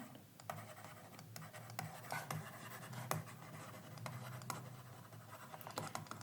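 Chalk or marker scratching out a chemistry rate equation on a classroom board, short irregular strokes and taps, faint and close, with no voices.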